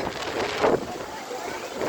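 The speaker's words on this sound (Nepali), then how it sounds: "जामाचोमा भयङ्कर हावाहुरी सहित पानी परिरहेको छ।" Heavy wind and rain lash an outdoor fair, the Jamachok fair, with hail mixed in; a steady broadband roar of gusting wind and downpour fills the scene, with a brief louder surge midway and a voice speaking over it.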